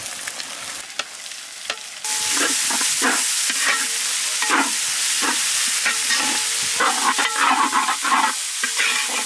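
Onions dropped into hot oil for a Spanish mackerel fish chow masala, a loud sizzle that jumps up suddenly and carries on steadily, with repeated stirring scrapes.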